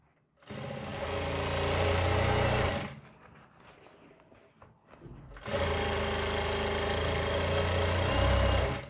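A sewing machine stitches a gents-style collar on a designer kurti in two loud, continuous whirring runs separated by a quieter pause of about two and a half seconds.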